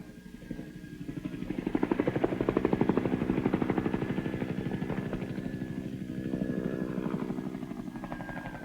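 A Bell AH-1 Sea Cobra attack helicopter flies a protective pattern over a landing zone, its rotor blades thumping in a rapid, steady chop that swells and eases as it passes at moderate distance.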